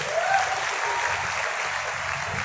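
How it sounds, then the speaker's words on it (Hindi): Audience at a direct-selling leadership event in Haridwar clapping together in a brief, steady burst, even and moderately loud, with no talk over it. "तो एक बार हमारे सर्वशक्तिमान परमेश्वर के लिए जोरदार तालियां"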